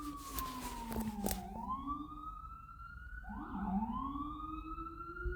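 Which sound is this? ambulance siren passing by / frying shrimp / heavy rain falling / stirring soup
ambulance siren passing by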